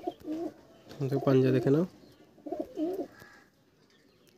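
A large pigeon gives soft, throaty coos in two short bursts, close by, with someone talking in between.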